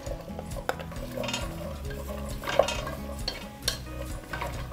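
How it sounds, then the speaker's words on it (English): A wooden spoon stirs vegetables into oil in a pan for a vegan butternut squash soup, producing steady scraping and clattering over a continuous low hum, close and moderately loud. "Then I'm gonna grab a wooden spoon and in goes all the veggies."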